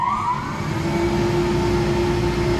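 A Zerma slow speed granulator's blower starting up, with a rising whine sweeping upward over a steady loud motor hum and a droning tone, continuous and close, with no talk.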